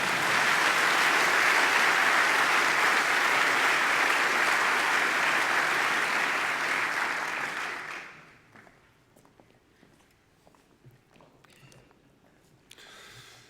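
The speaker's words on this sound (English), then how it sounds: "You can applaud again." Audience applause at an academic year opening ceremony, a dense sustained clapping that fills the hall for about eight seconds before abruptly fading to near silence with faint shuffling.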